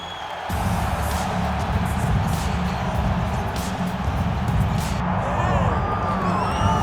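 An arena crowd roaring at a UFC fight in EA Sports UFC 5, a loud, sustained wash of cheering and shouts that swells steadily, with a commentator's voice mixed in.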